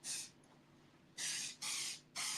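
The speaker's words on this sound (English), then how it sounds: "And then I can put a little bit more of the Make Me Shine spray gloss." Four short bursts of aerosol spray gloss hiss close by onto hair, one, a pause, then three in quick succession, with quiet between them.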